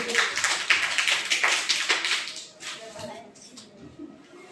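Group of people clapping for a student in an English practice session, a dense burst of claps for about two and a half seconds that thins out and fades, fairly close.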